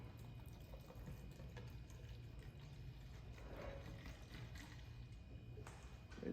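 Isopropyl alcohol is poured into a bottle of paint protection film tack solution, a faint, steady trickle of liquid in a quiet room.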